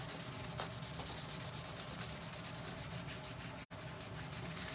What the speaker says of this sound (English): I'm just buffing off a little bit of any extra wax